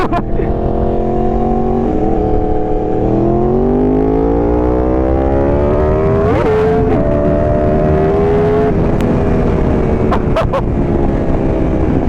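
A motorcycle with a fly-by-wire electronic throttle is ridden hard with a pro racer, the engine howling loud and close through rising revs and shifts, buried under constant wind roar.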